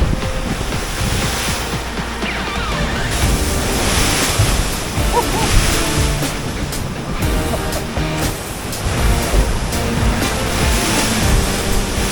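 Loud ocean waves roar and crash continuously against nearby rocks on the northern Coffs Coast, Australia, with gusts of wind buffeting the microphone throughout.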